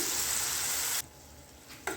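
Water is poured from a mixer jar into a pan of simmering radish curry, a steady close gush that stops abruptly halfway, followed by quiet and a brief splash near the end.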